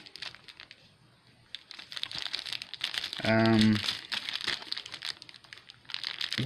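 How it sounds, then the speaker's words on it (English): Plastic blood type pouches crinkled and handled close by, with bursts of dry rustling and crackling throughout, a short tonal beep in the middle and talking at points. "here's your blood type pouches"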